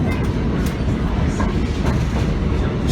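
A steam train on the Hotham Valley Railway near Dwellingup runs past, heard as a steady, loud, close rumble of wheels and carriages that stays continuous the whole time, with no clear voices.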